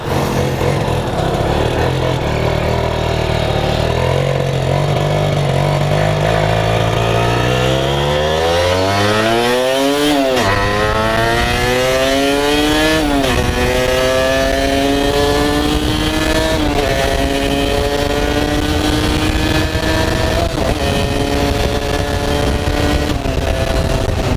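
A Kawasaki KR150 two-stroke motorcycle is ridden hard, its loud buzzing engine climbing in pitch through the gears with rising revs and shifts, close and dominant, with constant wind noise.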